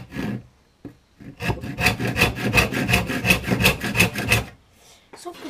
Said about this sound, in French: Donc on va prendre la scie à bois.